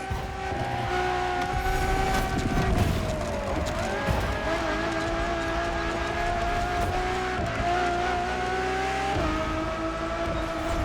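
A Ferrari Enzo supercar driven in the racing game The Crew Motorfest, its engine droning loud and close with rising and falling revs through gear changes, plus brief tire squeals.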